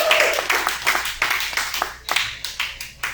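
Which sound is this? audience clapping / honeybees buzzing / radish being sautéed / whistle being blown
audience clapping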